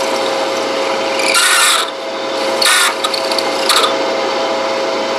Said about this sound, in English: We'll turn on the drill press, and I'll do my best just to hold it nice in there